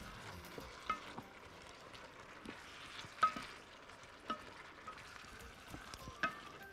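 Zucchini and minced garlic are stirred in a pan, with soft sizzling under faint scrapes and taps of the utensil at irregular intervals, quiet and close.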